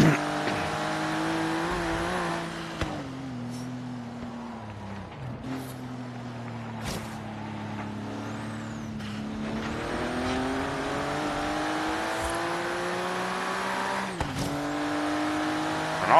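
An all-wheel-drive NSX sports car in Forza Horizon 3 races hard, its engine note climbing and dropping through repeated gear shifts, with tire noise and brief thumps, and voices at times underneath.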